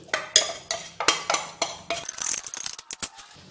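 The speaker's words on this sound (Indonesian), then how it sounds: "Ini saya lanjutkan ngaduk dengan spatula aja seperti ini, dengan aduk putar balik ya biar benar-benar tercampur" A spatula stirs melted chocolate into steamed cassava brownie batter in a bowl, making a steady run of close scraping and knocking strokes in a back-and-forth rhythm that thins out toward the end, with no voices.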